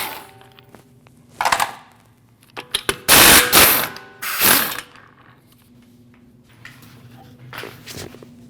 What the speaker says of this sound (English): You want to take these 5 lug nuts off.